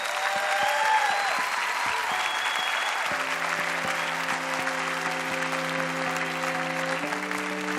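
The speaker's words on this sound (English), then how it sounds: "Let's have a massive round of applause for this year's Rookie of the Year" Sustained applause from a large audience at the 2018 FIM MotoGP Awards honoring Moto3 Rookie of the Year Jaume Masia, steady and dense throughout while music comes in partway.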